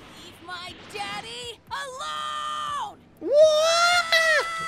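Gohan lets out several drawn-out, strained screams in Dragon Ball Xenoverse 2, rising in pitch and growing louder toward a final long, close, intense cry.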